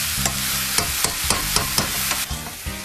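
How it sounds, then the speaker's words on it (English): Onions and shrimp stirred in a pan, with a steady sizzle broken by regular scraping strokes about twice a second, close and moderately loud, no voices. "And then you need to mix the onions and the shrimp."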